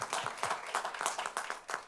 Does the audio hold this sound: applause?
yes